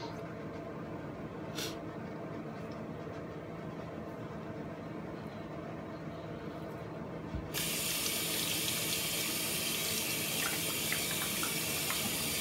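Warm water runs steadily from a tap while clay is rinsed off skin, a continuous close splashing flow that turns noticeably brighter and louder partway through, with no voices.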